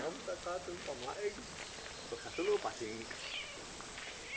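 A cat meows several times in short, wavering calls, with people talking in the background.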